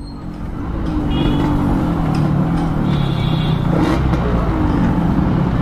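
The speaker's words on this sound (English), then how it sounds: "the bike is a lot quieter when the throttle is closed and when it's moving." A Yamaha RX motorcycle engine with a sleeved bore runs nearby, holding a steady, rough drone that swells slightly after the first second and stays level without clear revving.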